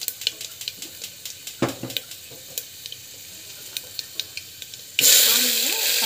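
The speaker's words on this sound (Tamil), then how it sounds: "ஸோ கடுகு, சீரகம் போட்டுக்கோங்க, நல்லா வந்து பொரியட்டும்." Mustard seeds, cumin and chana dal spluttering in hot oil, with rapid irregular pops and crackles giving way to a loud, steady sizzle, while someone talks.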